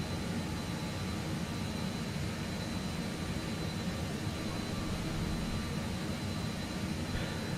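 A plane's engine in Microsoft Flight Simulator 2020 drones on as a continuous, even jet-like roar with a steady whine, loud and unbroken from start to finish.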